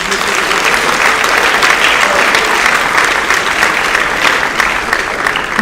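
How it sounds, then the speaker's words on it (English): Dense, loud applause fills a school auditorium during a high school athletic awards ceremony, a continuous roar of many hands clapping at an even level with no pauses. "So give him a round of applause."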